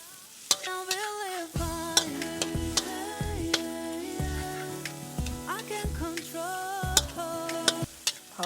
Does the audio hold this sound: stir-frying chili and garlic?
yes